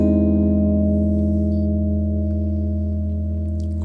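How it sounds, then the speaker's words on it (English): A single sustained major 7 sharp 5 (augmented major 7) chord rings out with rich, steady overtones, played loud and alone and slowly decaying over a few seconds. "So the one we're going to look at today is a major 7 sharp 5 chord, or augmented major 7"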